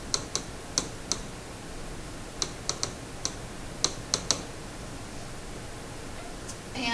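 Irregular plastic clicks of buttons being pressed on a graphing calculator while a function is entered, about a dozen sharp taps spread over a quiet hiss.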